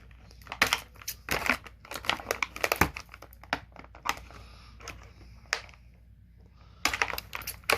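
Cutting the rope accessory of an AEW Unrivaled wrestling figure free from its plastic packaging: close, irregular crinkling, snipping and rustling in bursts, with a short pause before a final flurry.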